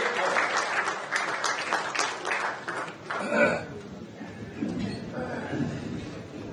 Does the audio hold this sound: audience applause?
yes